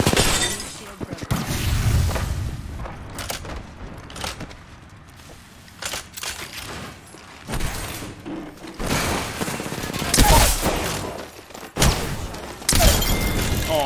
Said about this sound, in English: Enemy shield broken.